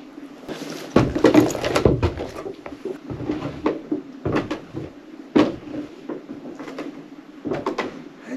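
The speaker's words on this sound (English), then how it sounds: "I just heard some knocks back here." Knocks and thuds inside a haunted schoolhouse, a series of irregular, fairly close wooden bangs and knocks with quiet gaps between them, no talking.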